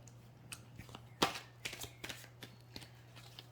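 Tarot cards are shuffled and drawn: one sharp riffle followed by several soft, close slides and taps, faint against a low steady hum.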